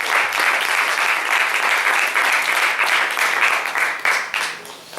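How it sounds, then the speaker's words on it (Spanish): A church congregation claps hands together in loud, sustained applause that fills the room, tapering slightly toward the end. "Denle fuertes palmas al Señor si usted lo cree en su corazón"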